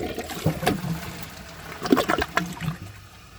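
An American Standard Cadet 3 toilet with a 10-inch rough-in flushes with short gurgling water bursts and a trickling drain, fairly quiet and close, with no voices.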